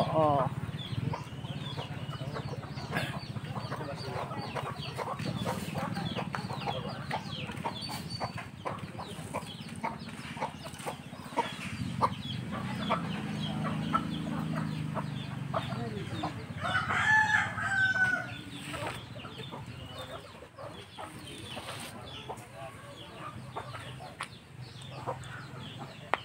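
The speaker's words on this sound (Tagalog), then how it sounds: "Buhay probinsya, ang daming manok." Hens cluck steadily amid a busy rural farmyard in the Philippine countryside while a rooster crows a few times, with voices and low background rumble throughout.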